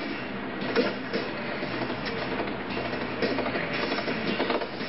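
A train runs in the Disney Infinity Lone Ranger video game, giving a steady rolling rumble with periodic clickety-clack and mechanical ratcheting that stays continuous and fairly loud, with no voices.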